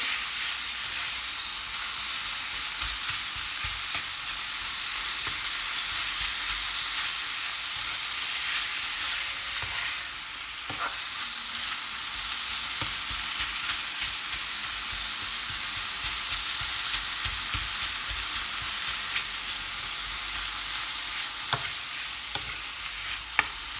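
Kefta and onion frying in a pan, a steady dense sizzle and crackle running continuously throughout at close range with occasional sharper pops, no voices.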